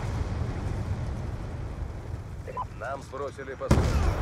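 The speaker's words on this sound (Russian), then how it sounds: "Первый человек в истории Call of Duty, который попался на клеймер." A claymore mine detonating in the shooter game Call of Duty: Black Ops 2, a sudden loud broadband blast near the end, following a rumbling game background and a voice talking.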